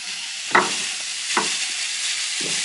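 Mince with garlic, stock cube, pepper and salt frying in oil in a pan while being broken up, three distinct scraping stirs over a constant close sizzle, with no voices.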